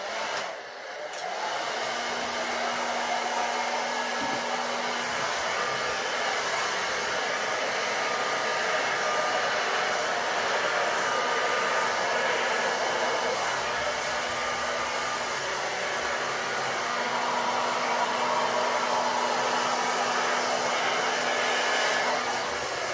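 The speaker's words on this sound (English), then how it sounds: "I'm going to use my slower hairdryer and we'll see what happens with that." A slow hair dryer blows steadily over a wet acrylic pour painting with a black base and gold, copper and white paint, a continuous close airy whoosh over a low motor hum that holds for about twenty seconds.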